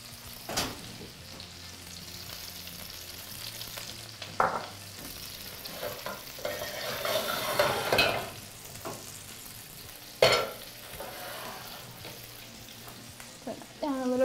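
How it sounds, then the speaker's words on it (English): Onions sauté in olive oil in a pan with a steady sizzle running throughout, while a utensil stirs and scrapes close by and gives a couple of louder knocks. There is no talk. "Saute the onions in the olive oil."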